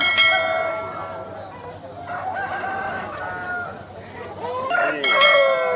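Rooster sitting in a basket at a Vijayawada rooster market crows loudly at close range, with clucking, other fowl and a faint bell around it, and a little talk in the background.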